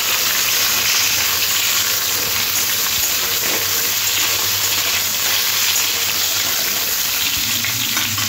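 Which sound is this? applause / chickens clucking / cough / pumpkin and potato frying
pumpkin and potato frying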